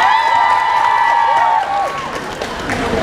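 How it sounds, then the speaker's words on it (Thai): Crowd at a DutchMill Milk Society event claps and cheers, a steady roar of applause with a few whoops, while a voice and music carry on over it. "ขอเสียงปรบมือให้น้องเก่งด้วยครับผม"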